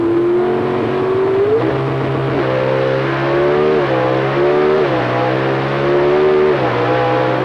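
500 cubic inch drag racing engines at a 1989 NHRA national event roar off the starting line at high RPM, a loud continuous snarl with rising and falling pitch sweeps as gears change.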